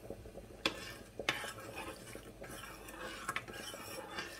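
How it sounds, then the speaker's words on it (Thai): A spoon stirs Thai three-flavour pickling brine for mango in a pot to dissolve it, giving faint scraping and a few sharp clinks against the pot under a quiet background hiss. "เดี๋ยวคนละลายแป๊บนึงรอเดือดจ้า"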